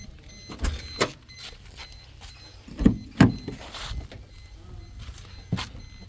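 A 2013 Maruti Dzire VDi diesel car door is worked nearby: a few solid clunks and latch thuds, loudest in a quick pair near the middle, alone with faint background noise.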